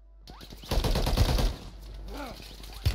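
Rapid single-fire gunshots in Call of Duty Warzone, a fast tapped string of close, loud shots followed by quieter play and a final shot, with a player's voice over it.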